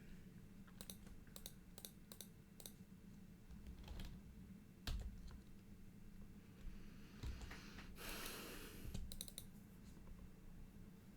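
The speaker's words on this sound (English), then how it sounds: "I'll keep on clicking buttons here" Computer keyboard and mouse buttons clicked during an online Magic: The Gathering match, sharp close clicks in irregular bursts and single taps, some rapid runs of keystrokes, over a quiet room hum with no talk.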